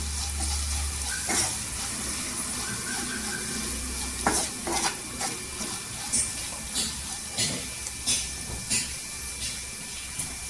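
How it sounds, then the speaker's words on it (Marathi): Potato bhaji is stirred in a pan after salt and turmeric go in, with a low sizzle beneath repeated clinks and scrapes of a spoon against metal, coming in uneven bursts up close. "चवीनुसार मीठ टाकायचं अर्धी चमचा हल्दी पावडर टाकायची मिक्स करायचं"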